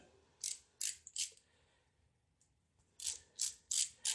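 Socket ratchet turned by hand while working on a Jeep 4.7 V8 engine, a series of crisp clicking bursts in two groups, close and fairly quiet with a pause between.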